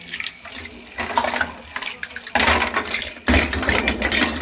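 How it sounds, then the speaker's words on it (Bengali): New puja plates and utensils are rinsed under a running tap. Water gushes and splashes in uneven bursts with faint metal clinks, close by and without talk. "এখন ধুয়ে নেবো, নতুন এনেছি তো একটু ধুয়ে নিতাম।"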